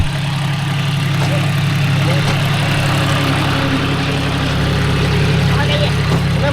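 A John Deere 5105 40 hp tractor pulling a 36-blade Gomathi rotavator in a farm field, a loud, steady low diesel rumble heard close throughout, with faint voices in the background.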